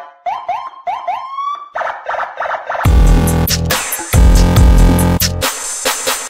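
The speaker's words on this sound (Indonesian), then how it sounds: "nggak pakai pengawalan dari patwal yang bunyinya kayak begini" Police escort motorcycle siren of the patwal type used for official convoys in Indonesia: rapid rising whoops and chirps at first, then a loud continuous wailing, blaring siren close by, with no talk.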